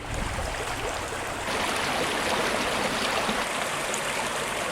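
A mountain creek flows steadily, a constant broadband rush of water heard close and alone without any voices.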